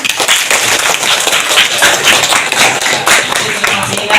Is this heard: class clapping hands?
yes